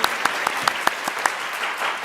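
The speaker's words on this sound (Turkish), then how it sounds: "Hadi Onur Bey alkışlar." Lively applause from a small studio audience on a Turkish word game show, a brisk run of sharp, evenly spaced claps over a continuous wash of clapping, fairly close and loud.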